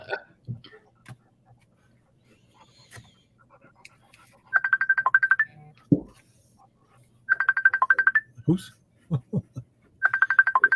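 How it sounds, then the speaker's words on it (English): A phone rings in three repeated electronic bursts of rapid trilling tones, separated by pauses, while people talk and make a few other noises in between. "Somebody's ringing. Is that me?"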